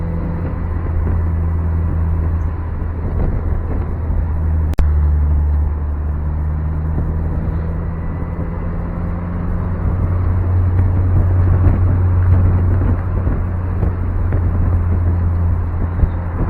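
A Mazda Miata driving along an empty road, its engine a steady, close low rumble with road noise running throughout, a brief bump near the middle.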